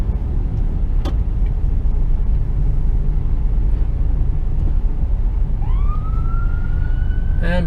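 An ambulance siren wails up and rises in pitch near the end of the clip, heard from inside a truck cab in traffic at a UK roundabout over steady loud engine and road rumble.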